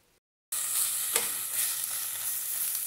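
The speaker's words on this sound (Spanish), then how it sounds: "para que se vaya secando el juguito y empiece a freír" Pork leg frying in a pan as its juices cook off, a close steady sizzle with crackling spatters beginning after a brief silence and continuing evenly.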